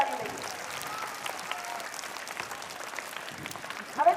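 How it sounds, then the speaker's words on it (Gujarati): Applause for parents at a school costume event by junior kindergarten through fourth-grade pupils, a steady patter of clapping from a seated crowd, moderately loud and continuous for a few seconds. "આ પેરેન્ટ્સને પણ આપણે તાળીઓથી જોરદાર વધાવી લઈએ"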